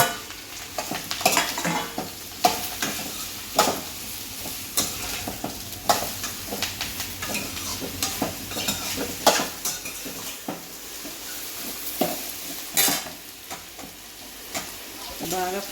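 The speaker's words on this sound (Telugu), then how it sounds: "కొంచెంసేపు లో ఫ్లేమ్లో పెట్టుకొని బాగా వేపుకోండి." Ridge gourd stir-fried with curry leaves and chana dal in a pan on low flame, a soft steady sizzle under repeated scraping and clinking of a spatula against the metal pan.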